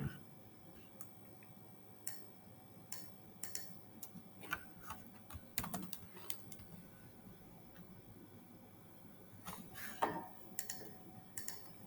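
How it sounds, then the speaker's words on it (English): Faint, sparse clicks of typing on a computer keyboard come in irregular short bursts, close by and quiet, with no talking over them. "I will type room thermometer."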